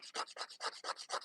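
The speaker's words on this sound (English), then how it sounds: "this is a great nail file. Got this in a set of 5 off of Shein. This is the 180 file." A 180 grit nail file shaping a fingernail, heard as steady back-and-forth rasping strokes, about six quick passes in a regular rhythm, close and fairly quiet with no talking.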